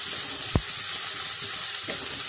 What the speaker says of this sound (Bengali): একটু হালকা ভেজে আমি এর মধ্যে দিয়ে দেবো লঙ্কা কুচি।